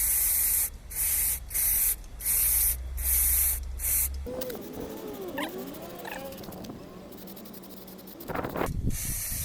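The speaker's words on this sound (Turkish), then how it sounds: "biz böyle balata spreyiyle ne kadar temizleyebilirsek" Several short bursts of brake cleaner spray hiss in quick succession on a Renault 9 Broadway door, followed by a quieter stretch of faint squeaky sounds before another brief spray.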